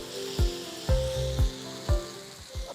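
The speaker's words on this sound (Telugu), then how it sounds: "ఇప్పుడు గోధుమ పిండిని దీని మీద పోసేద్దాం" Wheat flour dosa batter sizzles on a hot pan in a steady frying hiss. Soft rhythmic taps recur about every half second, close and clear, with no talking.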